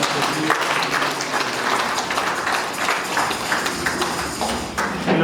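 A church congregation applauding, a steady crowd of clapping hands sustained for several seconds with a faint murmur underneath.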